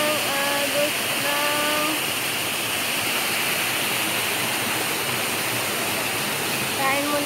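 The waterfall on Little Hawaii Trail in Hong Kong roars as steady, loud broadband rushing water, close and constant throughout, with a few faint tonal whistles riding over it.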